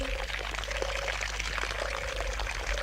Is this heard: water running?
yes